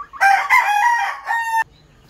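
A Sweater Kelso gamefowl rooster crows once, loud and close, a long rising-then-held call lasting over a second, followed by quiet background.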